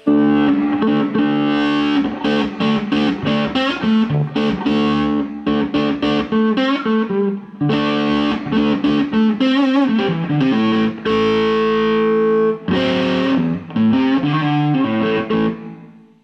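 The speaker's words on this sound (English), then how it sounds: "Turn the guitar down and I get a lot of different degrees of distortion." A distorted electric guitar, driven through effects pedals, plays loud, sustained, rhythmic chords and riffs, with gritty overdriven tone ringing continuously up close and no talking.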